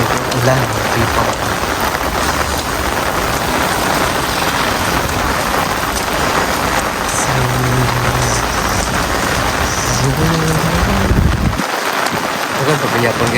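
Steady typhoon downpour (Typhoon Shanshan) drums continuously, loud and close beside a highway, with some indistinct voices and a low vehicle rumble mixed in.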